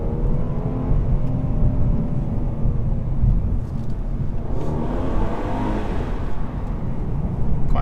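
A 2014 Mercedes E400 coupe accelerates hard from first gear, its engine note climbing steadily and then shifting up, heard from inside the car, loud and continuous with no talking.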